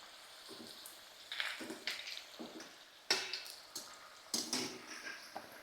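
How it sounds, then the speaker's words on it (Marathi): Potato pieces frying in hot oil, soft sizzling punctuated by several scraping stirs and clinks of a utensil against the pan, quiet and close, with no talking. "बटाट्यावरती असं आपण फ्राय करून घ्यायचे"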